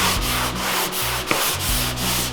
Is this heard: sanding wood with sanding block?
yes